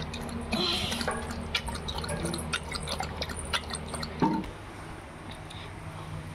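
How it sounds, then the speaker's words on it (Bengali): A pet drinks water with soft, wet lapping and dripping sounds, quiet and close, in a fairly calm setting with little else going on. "জল খাবে। কোকো এখন যাচ্ছে জল।"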